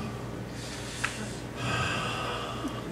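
A voice imitates a sleeping child's obstructed breathing, not quite snoring: a sharp gasping snort near the middle, then a longer noisy rasping breath, moderately close, with no talking over it.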